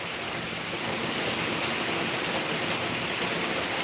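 Heavy rain pours down steadily during a thunderstorm, a dense, continuous hiss and roar close by with no break or let-up.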